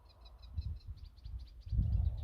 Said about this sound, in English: It's not working out what that bird is.